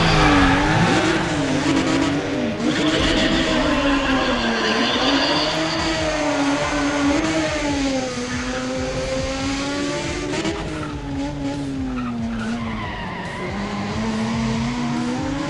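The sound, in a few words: Mazda RX-8 racing, revving and tire squeal in Need for Speed ProStreet video game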